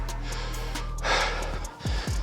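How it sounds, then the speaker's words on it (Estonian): Heavy panting breaths recovering from a bodyweight strength workout on an outdoor fitness park, a few loud gasping inhales and exhales close up over a low steady background hum. "Taastame hingamist."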